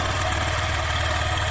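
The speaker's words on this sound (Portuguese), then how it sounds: "Então tá aí, pessoal, a moto em funcionamento." A Yamaha Fazer 150 motorcycle with about 115,000 km idles steadily nearby, its engine a loud, even low rumble with a slight rhythmic knock that holds throughout with no talk.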